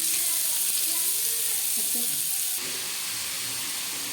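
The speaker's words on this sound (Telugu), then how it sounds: "ఆయిల్ వేడెక్కాక మనం కట్ చేసి పెట్టుకున్న ఉల్లిపాయలు, పచ్చిమిరపకాయలు వేసేసుకుందాము" Chopped onions and green chilies sizzle steadily in hot oil for a Telugu-style guddulu fish curry, a broad, even frying hiss near the pan with faint clinks, slightly dropping in level partway through.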